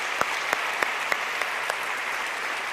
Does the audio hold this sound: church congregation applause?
yes